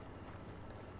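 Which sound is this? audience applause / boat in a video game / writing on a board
boat in a video game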